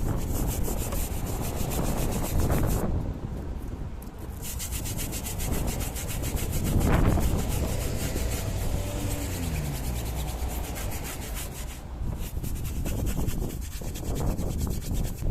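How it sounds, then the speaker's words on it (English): A stiff tyre brush scrubs the tyres of a dirty Audi, making a steady, close, rasping scrub that runs throughout with no talking. "A stiff tyre brush was used to scrub the tyres and to get all of that browning off."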